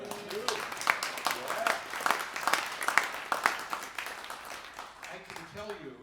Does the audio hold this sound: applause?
yes